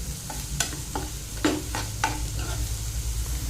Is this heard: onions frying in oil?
yes